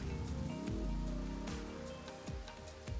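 Rain falls in the Grand Theft Auto: Vice City video game, a soft, steady patter on surfaces. It stays fairly faint and mixes with a humming, shifting engine-like tone, with no talking.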